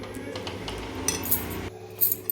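A spoon clinks and scrapes against a pot while breaking up lumps in besan pithla batter, a series of light metallic taps and stirs close by, with no talking.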